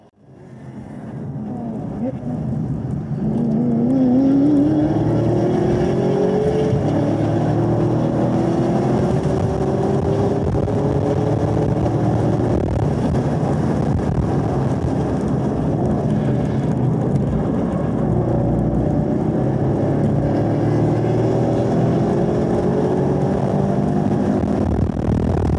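A Camaro SS race car on 305/30/19 square tires drives at speed around the Sebring track, its engine droning loud and continuous from inside the cabin, with rising and falling pitch through shifts.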